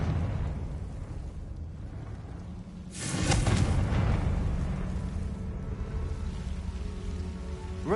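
A Confringo fire spell in a Hogwarts video game bursts into a loud, sudden explosive whoosh, then rumbles and crackles down over a few seconds against a steady rain-like ambient wash.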